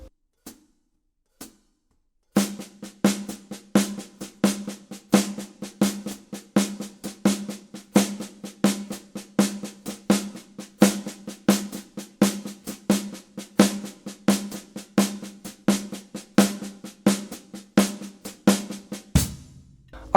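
A drum kit played in right-left-left sticking over a steady quarter-note pulse, a few lone strokes and then a long run of even, close, dry hits with regular accents and no talking.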